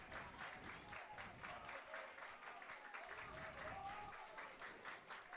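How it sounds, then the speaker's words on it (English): Hays Larks baseball fans in the stands clap along in a steady, rhythmic beat, a dense patter of many hands heard at a distance and fairly faint, with a voice talking over it. "Larks fans continuing to clap along"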